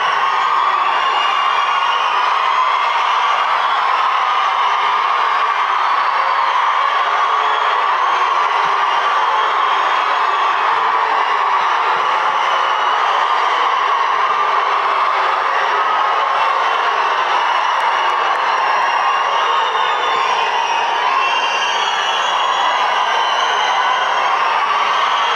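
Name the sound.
crowd of fans shouting at event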